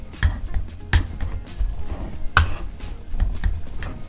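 Boiled plantains are mashed with pats of butter for mangu, giving a steady series of wet, squelching presses and knocks against the bowl, close and moderately loud.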